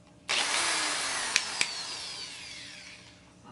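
A power drill bores a hole in a Berkey water filter, starting abruptly and whirring steadily up close, with two sharp clicks midway before the spinning gradually winds down.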